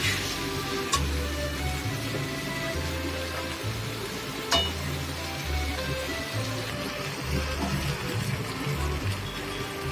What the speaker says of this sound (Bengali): তেলের মধ্যে সব কিছু ভালো করে কষে নিচ্ছি।